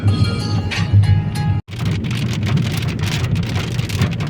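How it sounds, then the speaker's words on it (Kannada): Steady rain patters on a car driving the Bangalore-to-Bidar road via the Hyderabad route, a continuous broadband wash with a brief dropout partway through and no voices. "ಮಳೆ ಬಿಟ್ಟು ಬಿಟ್ಟು ಹೊಂಟದ"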